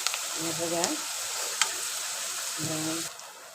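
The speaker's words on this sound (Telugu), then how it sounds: "ఉల్లిపాయలు ఇలా వేపుకోవాలి" Sliced onions fry in hot oil in a pan, making a continuous crackling sizzle with a few brief stirring scrapes and short clattering accents near the start and end.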